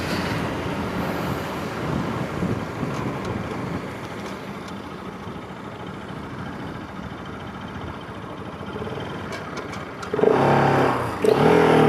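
A Bajaj RS 200 motorcycle, eight years old, rides along a road in first gear with a steady engine drone under heavy wind rush, and the noise swells louder near the end.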